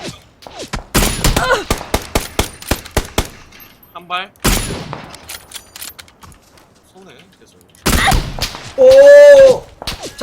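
Rapid bursts of gunfire from an AUG rifle fitted with a suppressor in the video game PUBG (Battlegrounds). The sharp, loud volleys repeat in clusters, with excited players talking over the shooting.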